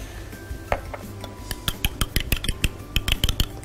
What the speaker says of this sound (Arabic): بس شويه هنا نخلط البيضه اللي عندنا